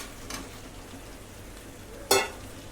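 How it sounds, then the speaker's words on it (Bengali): Fried potatoes dropped into spiced oil, two short sizzling bursts, the second louder and sharper, over a quiet background. "এখন আমি দিয়ে দেব ভেজে রাখা আলুগুলো"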